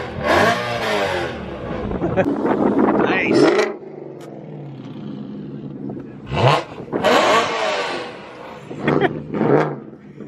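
A BMW E92 M3 revs hard at a large car meet, with several loud rising and falling engine roars separated by pauses, close by, while people talk between the bursts.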